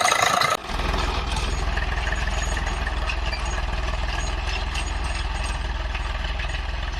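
A tractor ploughing a field rumbles steadily and close by, a continuous low engine drone that starts after a brief sharp noise at the opening and holds an even level throughout.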